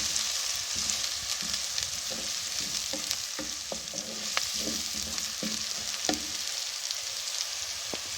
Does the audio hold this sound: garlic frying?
yes